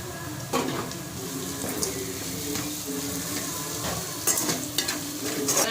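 Onions and fish frying together in a pan for a Telugu-style fish curry, being stirred steadily. A continuous close sizzle runs throughout, broken by scraping stirs and a few sharper clatters near the end, with no talking.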